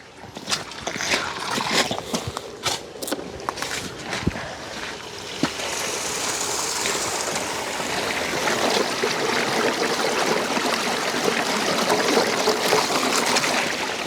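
Water poured and sloshed over gravel during gold prospecting, starting with a few sharp splashes and knocks, then settling into a steady running, trickling wash for the rest of the clip.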